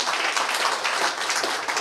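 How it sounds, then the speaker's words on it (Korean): Short burst of audience applause at a Southern California Seoul, Gyeonggi and Incheon community association launch ceremony, steady dense clapping from a room of people, close and clear. "예, 박수 부탁드리겠습니다."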